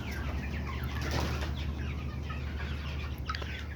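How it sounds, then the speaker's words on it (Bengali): Broiler chickens about 32 days old jump and flap their wings, giving a few soft wing flutters over a steady low hum and faint bird calls, with no talking. "মুরগিগুলো আপনারা ভিডিওতে দেখতে পাচ্ছেন যে কত সুন্দর লাফালাফি দরাদরি"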